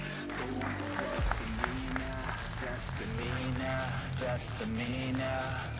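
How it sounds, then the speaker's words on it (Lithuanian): Applause rises in the hall at a NABBA Lithuanian Cup 2023 bodybuilding contest, a moderate wash of clapping and crowd noise that runs steadily under a voice talking over a loudspeaker. "Nu ką, plojimai salėje."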